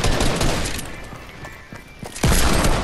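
Gunfire in a video game shooter: a loud rattling burst of rapid shots and booms, easing into a quieter gap with scattered pops before another heavy volley erupts at the end.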